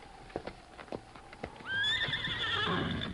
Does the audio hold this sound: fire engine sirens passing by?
no